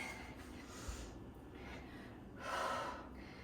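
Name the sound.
heavy breathing during a dumbbell HIIT workout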